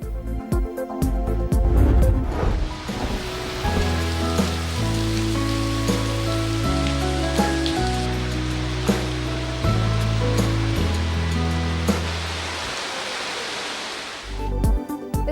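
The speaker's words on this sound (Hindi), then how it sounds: "इस्लामाबाद और रावलपिंडी के मुख्तलिफ इलाकों में मूसलाधार बारिश" Torrential rain pours steadily across Islamabad and Rawalpindi, a dense, continuous hiss that sits under low, sustained music for the whole stretch.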